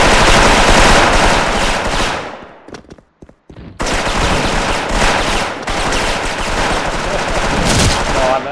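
Rapid automatic gunfire from the FPS game Rhizoid, loud and dense, with sustained bursts that break off into a brief lull of a few scattered shots before resuming heavily.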